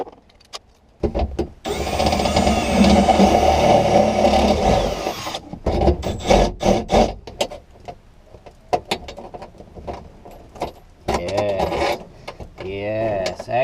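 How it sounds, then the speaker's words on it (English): A power drill working on wood whirs loudly for a few seconds, then stops; bursts of clattering and knocking follow, with voices talking near the end. "we'll be back in a moment with a drill"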